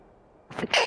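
A single sneeze bursts out after near silence, a sharp intake followed by a loud, breathy expulsion at close range.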